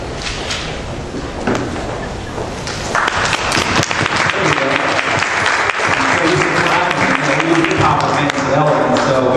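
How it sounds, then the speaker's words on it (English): An audience claps as a speaker walks on stage at a talk, the applause building from a scattered start into loud, dense clapping with some voices mixed in. "Whenever I get on stage, everybody's clapping and energized"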